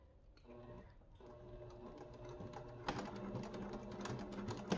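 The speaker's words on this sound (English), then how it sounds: "we're just gonna do a nice edge stitch across the top" Close and fairly quiet, a sewing machine runs an edge stitch along fabric with a continuous rapid mechanical whir and ticking that grows busier partway through.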